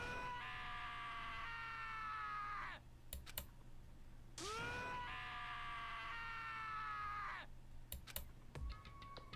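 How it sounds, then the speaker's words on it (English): A video game character screaming in Danganronpa, two long drawn-out wails separated by brief clicks and taps, loud and close with no talk over them. "As Takasa's screams invaded our skulls"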